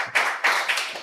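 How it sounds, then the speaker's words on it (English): An audience claps in brief, sharp bursts, three strong swells of hand claps in quick succession, near and without voices. "give Raab a nice round of applause"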